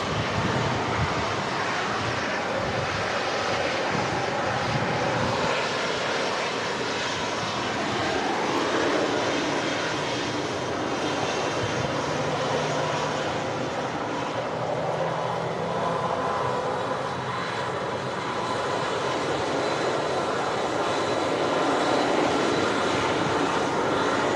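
A Ryanair Boeing 737 on approach to land at Manchester Airport in strong crosswinds, a steady distant jet-engine roar that swells and fades gently, with light wind noise and no talk.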